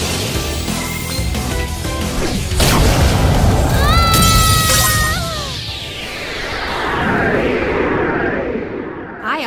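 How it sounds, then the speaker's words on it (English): Yu-Gi-Oh! Duel Links equip spell activation effect: a loud booming burst with crash and whoosh, rising chime-like tones, and a long echoing tail that swells again before fading. "I activate an equip spell."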